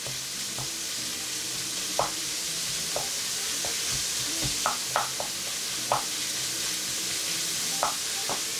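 Ground meat breaking up and frying in a pan while being spread out for a healthy pasta, a steady sizzle with sharp scrapes and taps of a utensil at irregular intervals, close and clear with no talking.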